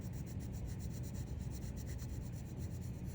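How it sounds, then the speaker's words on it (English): A regular graphite pencil shades steadily across paper in an art lesson, giving a continuous soft, close rubbing rasp with a faint regular stroke pulse and no talk. "So regular graphite pencil"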